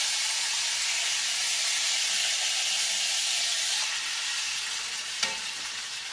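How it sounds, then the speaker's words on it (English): Roast beef sears in hot oil in a pan, giving a steady, close sizzling hiss that holds throughout, with a small clatter near the end and no voices. "Now it's time to turn this over and sear on the other side"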